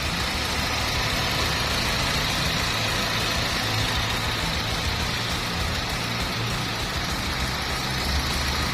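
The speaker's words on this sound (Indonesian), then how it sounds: "Nah, ini suara mesinnya ya, baru dihidupkan setelah pergantian oli mesin." A Wuling Confero engine, just started after an oil change at 20,000 km, idles smoothly and steadily at close range, a constant low rumble with a faint ticking texture and no voices.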